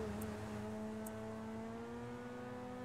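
A car driving in GTA 5 hums as a steady, fairly quiet engine drone with a slight upward drift in pitch, alone without talk.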